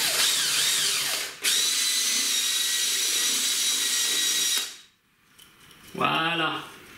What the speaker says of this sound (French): Et on va percer.